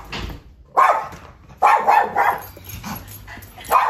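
A dog barks close by in several sharp bursts, a few seconds apart, with quieter sounds in between.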